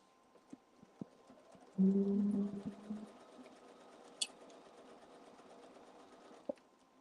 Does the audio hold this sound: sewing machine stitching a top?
yes